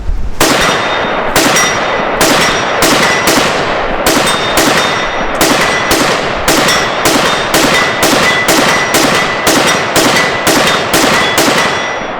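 A SIG 556 rifle emptying a whole magazine outdoors, about twenty loud, sharp shots in a steady, evenly spaced rhythm, each followed by a short ringing echo.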